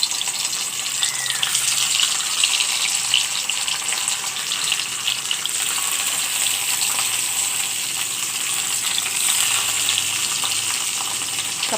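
Small fish fry in oil in a steady, bright crackling sizzle that stays close and even throughout, with no voices.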